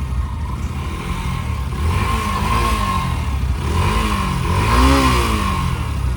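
Vehicle engines idle and rev steadily while warming up before setting off on a road trip, a continuous mid-level rumble with rising and falling revs, close by, with no talk.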